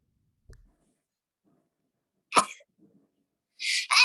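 A single sharp sneeze bursts out nearby after near silence, followed by a faint rustle and a short breathy noise toward the end.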